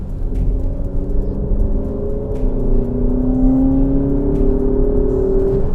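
An Alfa Romeo Stelvio's 280-brake-horsepower engine revs hard as the vehicle accelerates, its loud droning pitch climbing steadily, heard up close from inside.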